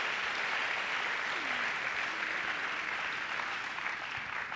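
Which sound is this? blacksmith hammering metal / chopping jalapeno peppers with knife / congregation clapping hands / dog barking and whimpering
congregation clapping hands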